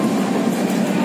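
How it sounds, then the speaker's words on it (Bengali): Darjeeling Mail train pulling into a station, giving a steady, loud rumble of rolling rail cars that fills the whole moment with no let-up. "দেখো আমাদের দার্জিলিং মেল ঢুকে গেছে"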